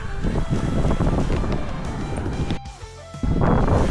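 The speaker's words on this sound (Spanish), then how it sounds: "aquí estamos caminando por la playa La Barceloneta" Wind and waves at La Barceloneta beach in Barcelona, a loud rushing roar with buffeting wind noise on the microphone, briefly dipping before surging back.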